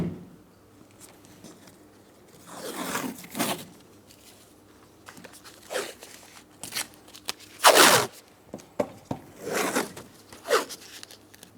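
Masking tape is pulled off a roll and torn during rear power window motor and regulator work on a 2004-2008 Pontiac. Several separate ripping and crackling bursts, close by, with the loudest near the middle.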